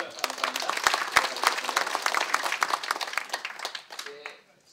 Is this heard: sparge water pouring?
no